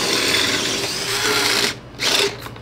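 A power drill bores holes in steering parts for a Power Wheels racing kart: a loud, steady whirring grind close by that drops out briefly twice near the end.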